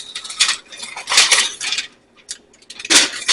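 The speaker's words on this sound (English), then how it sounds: "after a half hour, we take it out of the oven" A baking dish of pierogi rollups comes out of the oven with clattering clinks and scrapes of metal and glassware, several bright rattling bursts spread over a few seconds, fairly close.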